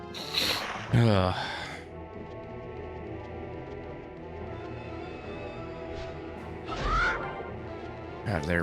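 A crow caws in the PS2 game Maximo: Ghosts to Glory, harsh rasping calls in bursts near the start and again later over steady game background, with someone talking between them.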